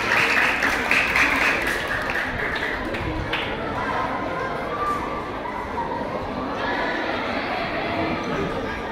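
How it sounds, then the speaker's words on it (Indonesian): A school crowd at a student council candidate debate claps for the first candidate pair, a broad roar of applause that starts loud and eases slightly as it carries on. "berikan tepuk tangan untuk pasangan kandidat nomor urut 1"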